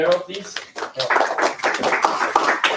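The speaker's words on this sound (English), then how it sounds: "Okay, a round of applause for Mr." A small audience claps for a speaker at a cyber security training session, scattered, uneven hand claps running under a person talking.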